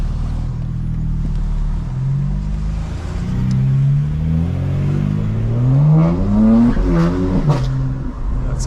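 A 2024 BMW M4 Competition xDrive (G82) accelerates hard, its engine note climbing steadily through the gears in a loud, continuous, close-up rising roar with brief dips at the shifts.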